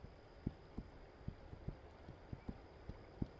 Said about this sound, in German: Ne, ich reite jetzt, reite jetzt mit dem Pferd da runter.